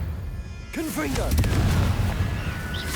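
A magical fire spell bursts in the Hogwarts Legacy video game, a booming explosion followed by crackling debris and rumbling, with a sharp onset after quiet ambience and a lingering roar.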